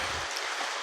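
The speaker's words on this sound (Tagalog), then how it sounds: "talagang malakas pa talaga ang ulan" Heavy rain pours outside, a dense, loud, continuous hiss of falling water with no break across the short moment and no voices over it.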